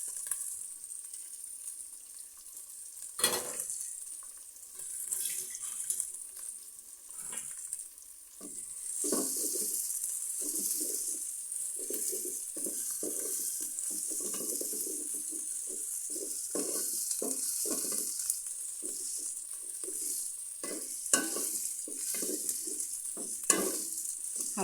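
Ginger and cumin frying in a pan for a thin khichuri, giving a steady close sizzle throughout with intermittent scraping and stirring bursts from a utensil.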